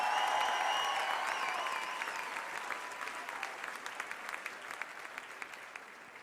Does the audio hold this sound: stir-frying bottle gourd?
no